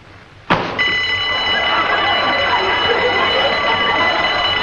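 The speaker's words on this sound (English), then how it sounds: "That was a burglar alarm." After a sharp click, a burglar alarm starts ringing, a loud, continuous electric bell that keeps going without a break until the end.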